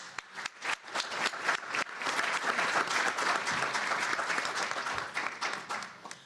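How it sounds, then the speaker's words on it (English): An audience at an education legislative conference breaks into applause, a dense, fairly close burst of many hands clapping that swells after a few scattered claps and holds steady before tapering off. "That is worth a round of applause."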